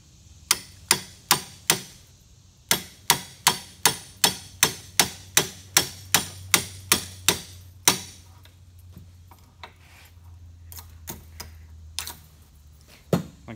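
A tapered punch taps a bucket being made into a chicken waterer: a steady run of about twenty sharp, evenly spaced metallic taps, then a few scattered taps after a pause.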